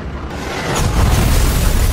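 A rocket explosion in a video game: a loud, broadband rumbling blast that swells and sustains heavy low-end roar throughout, with no voices.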